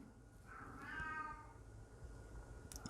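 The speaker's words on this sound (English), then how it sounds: "If you're hearing in the background my cat," A cat meows once, faint and distant in the background, a drawn-out call over a steady low room hum.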